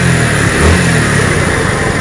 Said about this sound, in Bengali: দেখেন গাড়িটি স্টার্ট দেওয়া হয়েছে